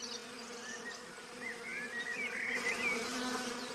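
A swarm of bees hums in a dense, continuous drone, with individual insects whining past close by and the buzzing swelling louder toward the end.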